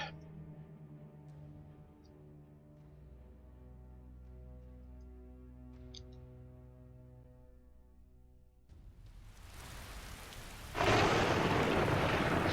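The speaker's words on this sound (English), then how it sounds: "still raining, of course." Steady rain in The Elder Scrolls V: Skyrim with a low rumbling backdrop under a music bed, then a sudden loud burst of heavy downpour near the end.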